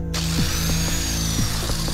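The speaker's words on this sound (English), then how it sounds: "So this is a die grinder. So these are pneumatics." Pneumatic die grinder polishing a marble statue, giving a loud, continuous high whine close by with brief grinding bursts as the tool meets the stone.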